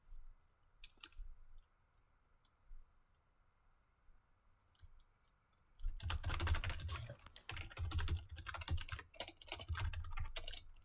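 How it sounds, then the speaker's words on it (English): Typing on a computer keyboard during an online Senate hearing session, sparse scattered taps at first, then a burst of fast, dense, erratic keystrokes close up for the last five seconds. "Pardon my erratic typing."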